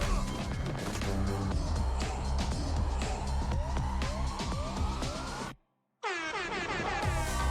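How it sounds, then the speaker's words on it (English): A brash, blaring meme air-horn blast in Fortnite cuts in over loud game noise and music, drops out for a half-second of silence, then returns abruptly with bright descending tones. "they did the meme air horn"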